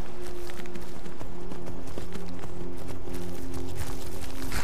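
Horse hooves galloping in Skyrim, a fast, steady clip-clop of hoofbeats under a loud, dense game soundscape with a low humming drone, continuous from start to finish.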